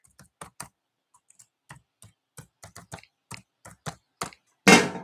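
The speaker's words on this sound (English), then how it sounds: "I'll type that in right here." Computer keyboard keys clicked in short bursts of typing while an email address is entered, crisp and close, ending in a louder clattering rush with no speech.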